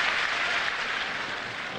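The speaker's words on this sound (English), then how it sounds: "Applause for the umpire Jorge Diaz" Spectators at a 2001 Florianópolis tennis quarterfinal between Hewitt and Kuerten applaud the umpire, a brief, steady burst of crowd clapping filling the stadium, with no one speaking over it.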